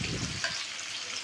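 Onions sizzle in hot oil with toasted cumin, a steady close crackle heard alone for a brief moment.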